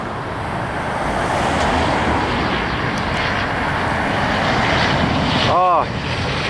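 A jet airliner taking off at Orlando International Airport (MCO), a loud steady roar close by throughout, with a brief sweeping tone from a passing car near the end, heard alone without talk.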